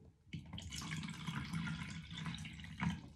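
Water pours steadily from a container into bottles and jugs during a child's bath play, a continuous splashing trickle heard close up with no talking.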